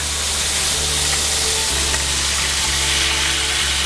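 Close, steady sizzle of pork cutlets frying in a skillet, a bright crackling hiss that holds evenly throughout, no voices.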